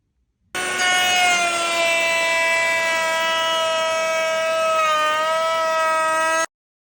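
A router table running a Trend 9.5 mm slot cutter whines up to speed, a loud, sustained high-pitched tonal scream held steady for about six seconds before cutting off abruptly.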